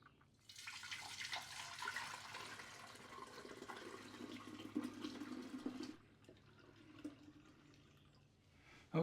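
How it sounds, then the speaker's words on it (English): Brewed wort for a summer shandy beer pours through a strainer into a one-gallon fermenter, a steady, faint splashing rush that tapers off into trickles and drips. "poured it in there, strained it out pretty good"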